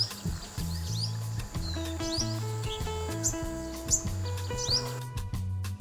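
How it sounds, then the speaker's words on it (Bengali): Small forest birds in a Bangladeshi woodland give quick, high chirps and short trills scattered through the clip, set over a steady background of low melodic music. "ছোট পাখিদের সুরে বন থাকে মুখরিত"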